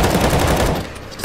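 Rapid machine gun fire in CS:GO Zombie Escape, a loud continuous burst of shots that cuts off partway through, followed by a brief lull and a final sharp shot.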